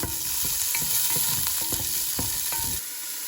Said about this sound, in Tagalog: I fry this a little bit.